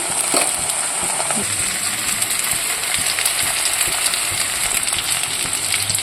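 Ginger-garlic paste frying in a pan of oil with half-fried ingredients, a steady loud hissing sizzle throughout with a few faint scrapes and no talk.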